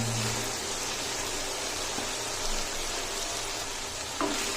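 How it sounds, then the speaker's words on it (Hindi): Finely chopped bottle gourd frying in a pan with softened tomatoes, a continuous even hiss of sizzling close by with a couple of faint stirring knocks, no talking. "इसे 2 से 3 मिनट अच्छे से भून लेंगे ताकि नरम हो जाए"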